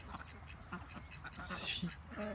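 Several short, nasal duck quacks come in quick bursts at close range in a garden, over a faint background of low rustling.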